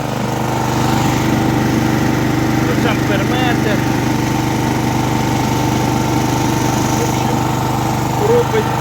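A generator converted from a GAB 1-0/230 unit to a Chinese engine runs steadily while powering a one-kilowatt electric drill, giving a constant loud engine drone with a few brief higher whines over it.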